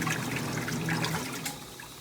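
A washing machine filling with water, a soft, steady trickling and hissing inflow heard close up and fairly quiet, with no talk.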